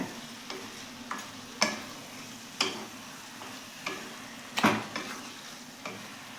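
Chicken being stirred in a kadai while it fries, with repeated scraping strokes of a spoon against the pan over a steady sizzle. The stirring is close and moderately loud, with no talking.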